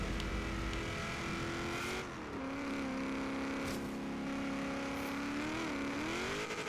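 A car engine in Forza Horizon 3 holds a steady high revving drone while drifting, with the pitch dipping and climbing again as the car slides, loud and continuous with no talk.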